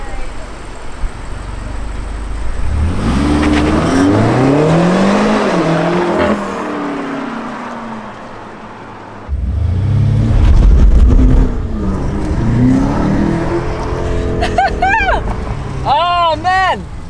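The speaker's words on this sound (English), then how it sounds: "Oh man! We got the spinning tires that time." BMW M8 First Edition launching hard with tires spinning, a loud rising engine roar that surges, drops briefly, then surges again, close by, with people talking and exclaiming over it.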